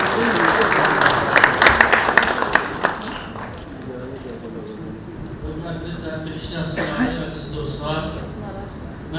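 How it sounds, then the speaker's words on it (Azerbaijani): An audience applauds at a stage event honouring a centenary as an academic is invited up: a dense, loud burst of clapping for about three seconds that then thins out beneath a voice speaking. "alqışlarınızla"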